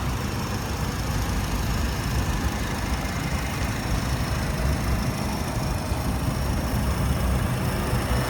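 A 2.4-litre car engine idles evenly throughout, a smooth continuous low rumble with no revving or breaks.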